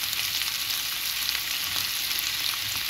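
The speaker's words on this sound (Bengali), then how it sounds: "তেল দিয়ে পেঁয়াজটা দিয়ে দিব, তো পেঁয়াজ দিয়ে দিচ্ছি যা আমি আগে কেটে রেখেছিলাম।" Chopped onions fry in oil for a Bangladeshi pigeon meat curry, giving a steady, close, high hiss of sizzling. A few faint crackles and stirring scrapes run through it, with no voices.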